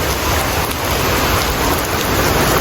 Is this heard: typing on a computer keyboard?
no